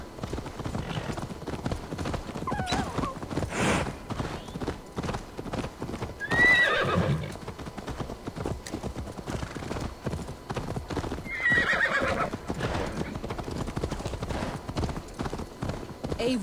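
In the video game Assassin's Creed Valhalla, horse hooves clip-clop in a steady rhythm throughout, with two loud neighs breaking in midway and near the end over a continuous game soundscape.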